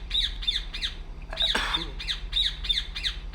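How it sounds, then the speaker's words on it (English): A bird in the video game République squawks repeatedly in a fast, regular series of harsh, shrill calls, loud and close, with a brief scuffling noise in the middle. "What the hell's up with that bird?"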